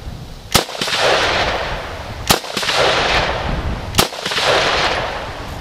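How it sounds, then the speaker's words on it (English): Three sharp, loud rifle shots from a sporterized military surplus rifle, spaced about two seconds apart, each a close crack followed by a broad rolling echo that fades before the next shot, no talking. "But that's not going to stop me from at least shooting at it."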